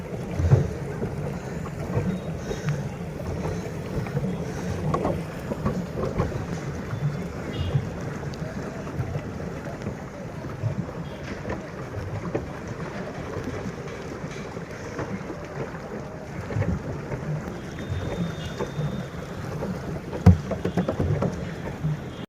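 Small boat gliding across a park lake at Krishna Sayar Park in Bardhaman during a flower fair, steady wind buffeting the microphone over a low water-and-hull rumble, with scattered voices talking faintly in the background.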